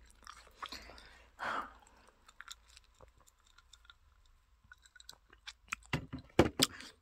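Close, crunchy chewing of a chocolate-filled Tongk cookie, with a bite burst early on, then quieter mouth clicks and a louder run of crunches near the end.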